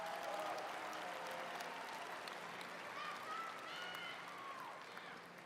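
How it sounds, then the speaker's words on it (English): A graduation audience at a high school commencement ceremony applauds steadily, a dense wash of many hands clapping at some distance that holds for several seconds before easing slightly at the end. "Students, let's give your parents and guardians a round of applause."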